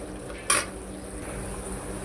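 Chopped onion frying with spices in a pan for an Indian soybean badi kofta curry gives a steady soft sizzle, broken by one sharp scraping clatter of a spoon against the pan.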